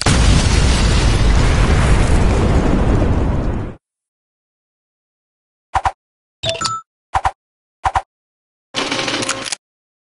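A bomb detonates in a Jackbox party video game with a long, loud roaring blast that fades out, followed after silence by several short, sharp electronic pops and bursts.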